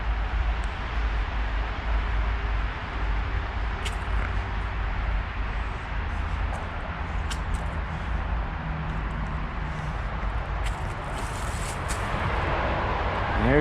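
Steady traffic roar from the Interstate 476 Northeast Extension highway, a continuous low rumble and hiss carrying into a wooded park in Swarthmore, Pennsylvania, with a few faint clicks and rustles nearby.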